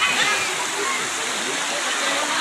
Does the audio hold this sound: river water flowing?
yes